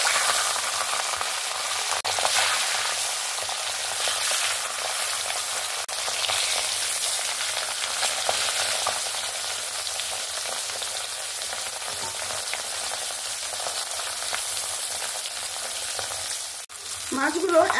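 Pieces of katla fish fry in hot oil in a wok, making a dense, continuous sizzle that sounds like steady rain and stays close and even, with a brief clatter near the end and no talking.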